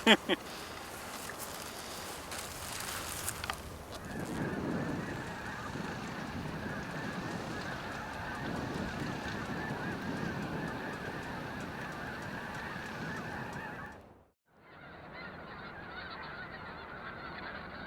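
A huge flock of white snow geese on Wrangel Island in the Arctic honks continuously, a dense overlapping clamor of many calls near and far, with a brief dropout near the end before the chorus resumes.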